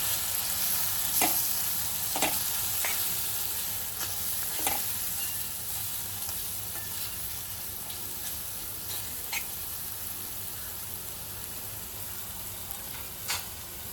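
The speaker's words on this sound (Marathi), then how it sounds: "तिखट मसाला टाकूया, आणि हे सगळं चांगलं मिक्स करून घेऊया।" Ridge gourd with chili masala, for a traditional Marathi vegetable dish, sizzles steadily in a frying pan. Scattered sharp scrapes and taps come from the spatula stirring it, close and alone without talk.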